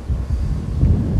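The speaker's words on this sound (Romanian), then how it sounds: "Da, apropo, vântul bate." Wind blows outdoors beside a railway line, buffeting the microphone in a low, rough, gusty rumble that stays fairly loud through a brief second-long stretch.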